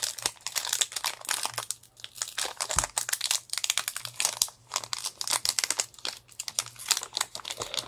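Foil trading card pack crinkled and torn open by hand, a continuous close crackle of crumpling wrapper with sharp tearing bursts and scattered crisp snaps, no talking.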